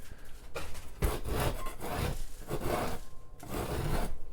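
Textured popcorn ceiling, built up from 8 or 9 coats, being scraped off drywall in repeated rasping strokes, each a gritty rough scrape with short pauses between.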